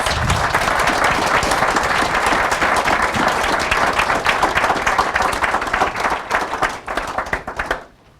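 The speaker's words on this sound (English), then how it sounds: "Let's give them a big round of applause" A large audience applauds the Champions of Change honorees at a Native American youth awards event, vigorous continuous clapping that holds strong for several seconds before tapering and cutting off near the end.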